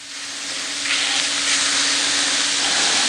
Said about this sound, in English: Give them a second to kind of sear off real nice in that cast iron pan over about a medium heat.